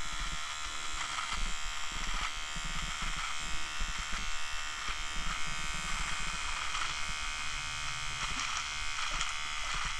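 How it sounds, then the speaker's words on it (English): A small Vivitar electric nose hair trimmer buzzes steadily up close for about ten seconds, its whine wavering slightly as it moves. "it sounds like it's trimming pretty good"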